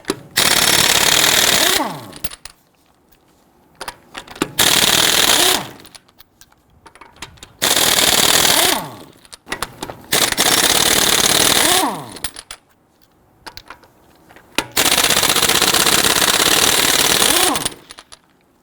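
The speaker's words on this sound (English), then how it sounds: "Using a 19mm socket, loosen and remove the lug nuts." An impact wrench with a 19mm socket removes lug nuts from a 2011-2019 Ford Explorer wheel in five loud, close bursts of rapid hammering, each lasting about two seconds, separated by quiet pauses.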